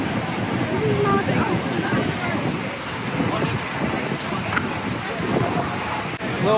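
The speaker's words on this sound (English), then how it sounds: "It's a little windy" Strong wind roars continuously across the microphone, a loud, steady buffeting rush that barely lets up for the whole stretch.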